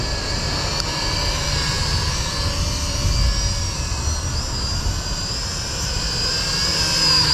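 A DEERC M10 beginner drone's motors give a loud, steady, close whine with a constant pitch and no pauses.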